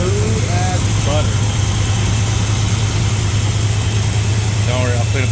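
Chevrolet squarebody pickup truck idling steadily after a valve adjustment, with a constant low, even engine rumble close by and a voice speaking over it now and then.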